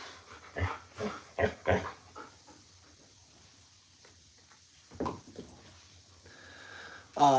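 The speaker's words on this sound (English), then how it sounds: "Here with my dog Chester. We're playing some fetch." A dog named Chester playing fetch, giving short snorts, sniffs and panting bursts close by, with quiet stretches between them and a louder sound at the end.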